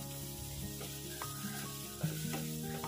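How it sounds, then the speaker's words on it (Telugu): Beans frying in hot oil in a pan give a soft, steady sizzle with faint scraping from stirring, quiet and close, with no talking. "బీన్స్ కూడా ఈ ఆయిల్లో కొద్దిగా ఫ్రై అయితే బాగుంటుంది"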